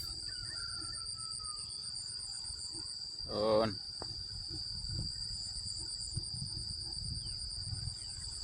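Rice field ambience with a steady high insect drone and faint low rustle throughout, a brief louder burst midway as a voice exclaims.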